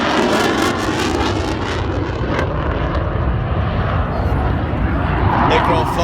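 A SAAB Gripen jet fighter roars past at an air show in a loud, continuous broadband rush, with a commentator talking over it throughout.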